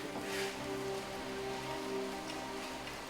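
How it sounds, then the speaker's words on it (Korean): Steady rain falls on a surface during days of flooding, a soft continuous patter at moderate level, joined by a faint sustained tonal hum from nearby. "지금 4일 동안 계속 비가 오고 있습니다."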